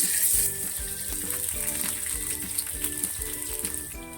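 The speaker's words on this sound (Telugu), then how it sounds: "ముందుగా కచ్చా పచ్చాగా దంచి పెట్టుకున్న తెల్లగడ్డలు అనమాట దీంట్లోకి అయితే వేసేసుకుంటున్నాను" Crushed garlic hits hot oil in a pan and sizzles with a steady, hissing crackle that carries on throughout, starting slightly louder, with faint rhythmic tones underneath.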